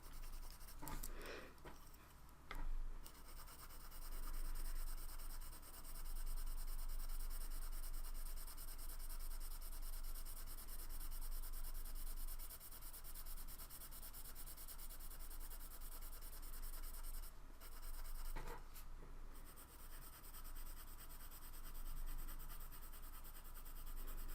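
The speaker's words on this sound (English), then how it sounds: "You can see I'm just using the side of my pencil." Colored pencil shading on paper with the side of a sharp pencil, a soft continuous scratchy rubbing with short pauses, heard close up and alone.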